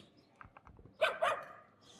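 A dog barks twice in quick succession at middle distance, two short sharp barks standing out over faint background noise and soft scattered sounds.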